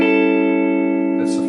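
An A dominant 7 chord strummed across four strings on guitar, a single close ringing chord that sustains and slowly fades over about a second and a half, with a faint rustle near the end.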